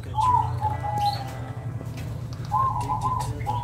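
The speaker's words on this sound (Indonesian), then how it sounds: "inilah sahabat pasang indukan persilangan burung perkutut antara jenis kategori Moka Majapahit dan Cemani Majapahitnya" Zebra dove (perkutut) breeding pair, a Cemani Majapahit and Mocca Majapahit cross, giving soft repeated cooing calls in two bursts inside a cage, with faint low hum and light rustles behind.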